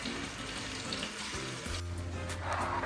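Basmati rice is rinsed in running water, a steady close splashing and trickling, with a faint sizzle from frying in the background.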